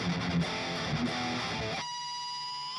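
Distorted electric guitar through an STL Tonality amp simulator, with an SM57 mic at the center of the speaker cone, chugs loudly for nearly two seconds, then drops to a single ringing chord that sustains and fades.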